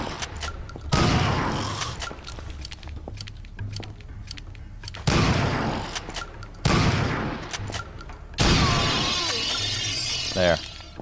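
Shotgun blasts from the first-person shooter NecroVisioN: Lost Company, several loud separate booming shots with sharp onsets and decaying tails amid other game noise, with someone talking between bursts.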